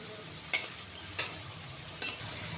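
Paneer rolls deep-frying in hot oil give a continuous soft sizzle, broken by three brief sharper crackles or stirring clinks at close range, with no talk.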